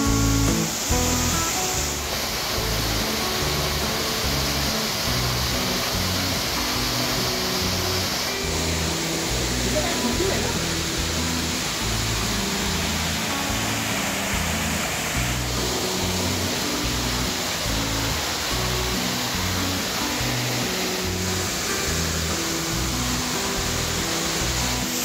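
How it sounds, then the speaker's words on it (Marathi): Rushing water by a cave campsite roars as a steady, loud, unbroken wash of noise that lasts from start to finish. "पाण्याचा आवाज भरपूर आहे"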